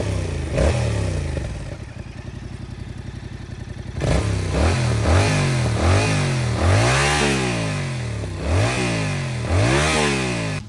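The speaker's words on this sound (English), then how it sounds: "I know you're eager to hear the sound, so here's what it sounds like with the stock exhaust." Yamaha XSR700 motorcycle with a 689cc parallel-twin engine and stock exhaust, idling with a steady throb, then blipped through a series of sharp, loud revs that rise and fall repeatedly, close up with no talking.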